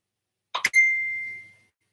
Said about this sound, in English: It's my phone dinging off.